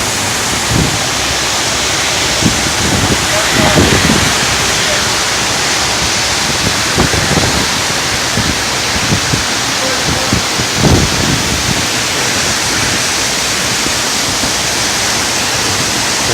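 Heavy monsoon-like rain pours down in a dense, loud, continuous roar, with scattered thuds and rustles underneath.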